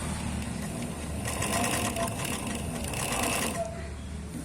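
A sewing machine runs a straight stitch on a small scrap of fabric, giving a quiet, continuous mechanical whirr with a fast rattling pulse that swells in the middle and fades near the end.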